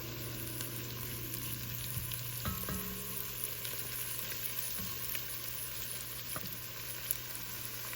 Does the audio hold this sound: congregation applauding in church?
no